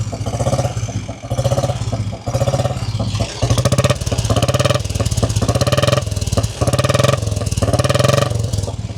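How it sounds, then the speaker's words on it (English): A 1960 Norton Model 50 350cc single-cylinder motorcycle engine runs loudly and steadily close by, its thumping firing pulses holding an even idle with slight swells in revs throughout. "Iconic Norton sounds pretty good for a 350cc single."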